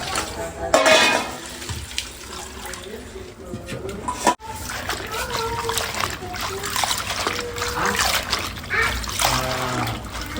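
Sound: water running from a tap

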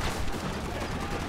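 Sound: machine gun fire in Red Dead Redemption, video game

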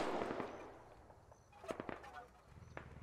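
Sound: distant gunshots in the video game Squad

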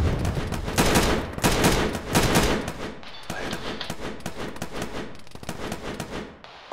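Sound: gunfire at a vehicle in video game Arma

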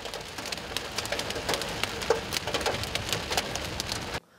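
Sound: heavy rainstorm with hail

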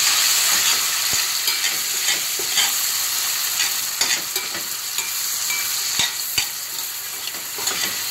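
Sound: mushrooms frying in butter

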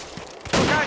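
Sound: gunfire in the video game DayZ

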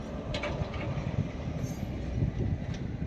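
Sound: local train hauled by locomotive

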